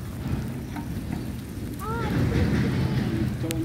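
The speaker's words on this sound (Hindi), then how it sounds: "आ गई है तेज बारिश" Heavy rain pours down outdoors in a garden beside a neem tree, a steady broadband hiss that grows louder partway through, with clear whistling bird calls ringing out over it.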